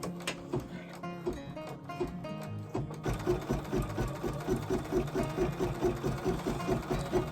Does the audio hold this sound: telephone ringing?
no